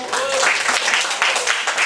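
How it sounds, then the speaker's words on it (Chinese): Audience applause at a school library book club talk, broadband clapping filling the whole moment at steady loudness, with a host's voice speaking over it. "好，我们再次用热烈的掌声"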